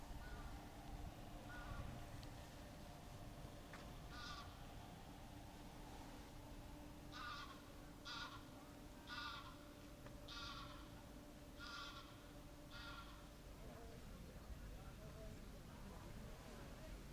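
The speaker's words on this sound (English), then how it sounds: "A highlight for us was visiting a sheep pasture with some very cute," Sheep bleat in a series of short calls from a pasture at an open-air museum with historic Dutch buildings, fairly distant and faint over a steady background hum, with no one talking.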